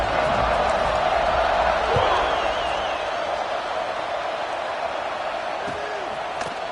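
A large football stadium crowd roars in a broad, sustained wash after a touchdown drive, with an announcer talking over the noise.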